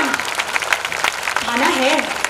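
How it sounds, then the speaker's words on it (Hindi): Applause from an audience at a school annual function fills the scene, steady clapping throughout while someone speaks over it, his voice rising clearly above the crowd. "इतनी तालियां बजनी चाहिए ना कि वो जहां है वहां सुनाई दे उनको"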